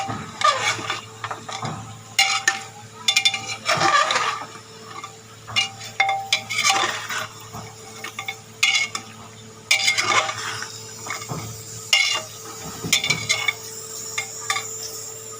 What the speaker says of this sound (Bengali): মশলাটাকে একটু ভালো করে একটু কষে নেবো বন্ধুরা।